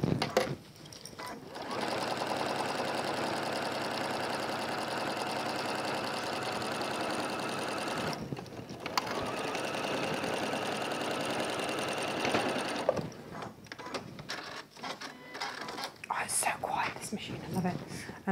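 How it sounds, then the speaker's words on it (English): A sewing machine runs a long basting stitch through William Morris tapestry fabric, whirring steadily for several seconds, pausing briefly, then running again before stopping amid small handling noises and faint whispery voice. "I'm going to just lengthen my stitch because I do just want this basted in"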